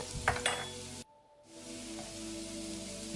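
Onions frying in a pan are stirred and flipped with a slotted spoon, with bursts of clattering scrapes over a constant sizzle, then a short dropout before the sizzle resumes more quietly.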